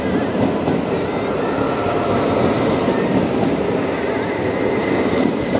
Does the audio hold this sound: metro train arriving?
yes